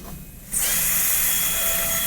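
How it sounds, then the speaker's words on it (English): A dental drill cuts an MO or DO preparation on a maxillary molar, a sharp high-pitched whine starting abruptly after a brief quiet moment and holding steady and loud to the end. "You drill a hole in the corner and cut away from that side."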